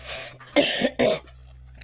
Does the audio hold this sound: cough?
yes